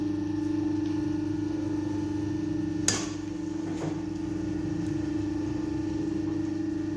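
An electric motor in a lab practical runs steadily at about 1500 rpm, producing a constant mid-pitched hum with a steady tonal whine. A single sharp click sounds partway through, and the motor continues alone without speech.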